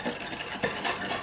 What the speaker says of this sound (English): Let's go ahead and whisk these in together.